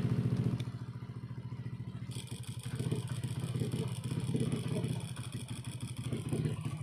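A motorcycle engine runs steadily at a low idle, its rapid, even firing pulses close and continuous throughout with no voices.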